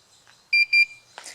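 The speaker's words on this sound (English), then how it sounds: "you'll hear 2 beeps when you turn that on" Two short, bright electronic beeps in quick succession from a DJI Phantom 2 Vision Plus drone controller being switched on, close and clear, followed by a faint rustle.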